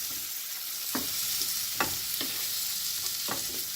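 Tomatoes mixed into a sizzling vegetable omelet in a pan, steady frying hiss broken by several brief scraping strokes of a utensil at irregular intervals, no talking.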